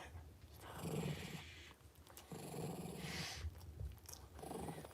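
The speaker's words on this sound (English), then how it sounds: "Are you growling at the pug? What are you growling at?" A dog growls in low, rumbling bursts through most of the stretch, close and fairly steady, alongside another dog, a pug, with no talk over it.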